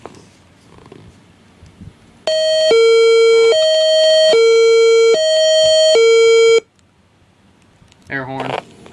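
A tornado siren sounds a loud, close high-low tone, two pitches alternating in long even steps for about four seconds before cutting off, followed by a brief burst of other noise.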